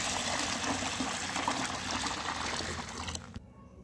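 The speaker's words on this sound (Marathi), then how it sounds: "आता आपण यामध्ये पाणी घालून घेणार आहोत" Water pours in a steady, close rush onto mixed lentils set to soak, then cuts off abruptly near the end, leaving near silence.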